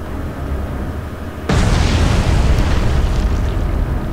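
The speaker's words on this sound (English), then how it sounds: "because here comes our torpedo" A sudden loud blast jumps out of low background rumble and becomes a sustained, dense roar as a torpedo strikes and sinks the German submarine U-268 in the naval game Atlantic Fleet.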